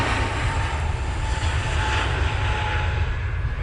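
A propeller aircraft at Manchester Airport drones steadily in the open air, a sustained engine roar with a faint tonal hum over broad wind-like noise, heard alone without voices.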